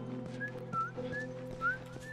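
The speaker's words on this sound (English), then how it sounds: "I'm whistling." A person whistles a wandering tune in short rising and falling phrases, fairly quiet over a steady low hum of background game audio.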